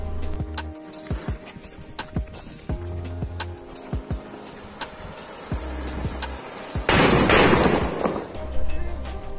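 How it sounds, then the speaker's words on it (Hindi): An anar fountain firework combined with three medium sutli bombs goes off outdoors, with several sharp cracks and pops followed by a loud sustained hissing burst, then more rapid bangs near the end. "नेक्स्ट आता है हमारा ये अनार प्लस तीन सुतली बम जो कि मीडियम साइज है।"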